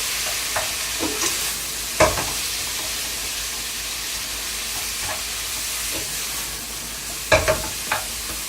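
Webfoot octopus stir-fried in a pan without added water over lowered heat gives a steady, close sizzle, broken by a few sharp scraping and clacking stirs.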